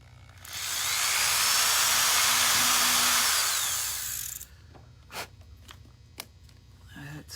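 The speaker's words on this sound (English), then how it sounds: "let's drill a hole in this" Small electric drill boring a hole while making magnet earrings and pendants: a loud, steady high whine lasting about four seconds, then stopping, followed by a few sharp clicks and taps.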